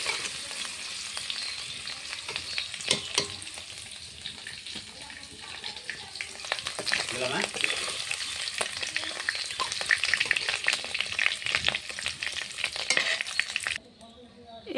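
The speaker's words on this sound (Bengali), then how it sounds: "এই তেলে আমি এখন আলুটা ভেজে নেব পনিরের জন্যে" Potatoes fry in oil for a paneer dish: a loud, continuous sizzle with frequent stirring clatter that runs close and steady until it cuts off near the end.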